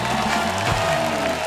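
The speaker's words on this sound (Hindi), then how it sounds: "जोरदार तालियां हो जाए हमारे मेहमानों के लिए।" A studio audience on a Hindi comedy talk show applauds its guests in a dense, steady wash of clapping that fills the room without pause.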